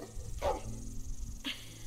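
A dog in The Walking Dead: The Final Season video game gives two short whimpering barks about a second apart, fairly faint over a low ambient background.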